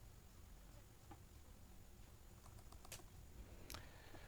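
Keys on a computer keyboard are tapped faintly and sparsely while text is typed into a Microsoft Word business card, a few scattered clicks over a low background hum.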